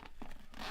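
A heavy-duty zipper on a Gator pedalboard soft case rasps briefly up close, a quick scratchy pull lasting under a second.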